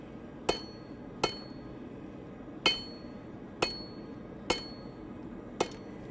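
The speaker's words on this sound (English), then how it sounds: "You're basically using the combination of the hammer at an angle and the anvil at an angle" Forging hammer striking hot metal on an anvil in a blacksmithing demonstration, six sharp ringing blows spaced about a second apart, each decaying quickly over a quiet background.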